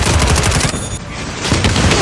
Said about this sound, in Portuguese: Agora vai morrer pra torreta.